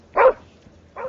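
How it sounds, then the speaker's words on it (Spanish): A dog in a video game gives two short barks, a loud one near the start and a softer one just under a second later, with quiet gaps around them. "¿De dónde te salta el perro?"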